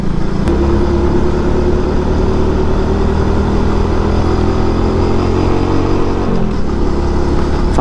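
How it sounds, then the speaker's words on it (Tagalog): Suzuki Shooter 115 Fi motorcycle engine climbing a steep hill road, a steady loud close drone with low harmonics throughout, strained and continuous as it pulls uphill. "Sarap ng motor dito."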